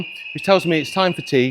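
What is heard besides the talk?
fire alarm going off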